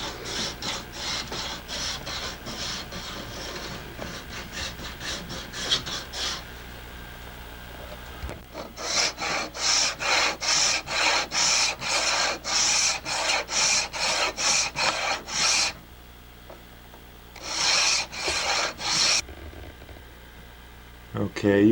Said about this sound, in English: I can take this metal strip off, just an old hacksaw blade, and then cut the grooves normally